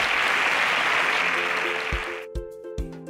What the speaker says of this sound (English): Please, a round of applause for Blossom as she exits the stage.